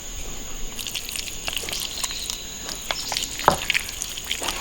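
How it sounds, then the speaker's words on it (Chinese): Seasoned minced meat mixed with starch is stirred briskly in a bowl, giving a close, wet, squishing patter of irregular clicks and smacks under a faint steady whine. "把它搅拌上筋"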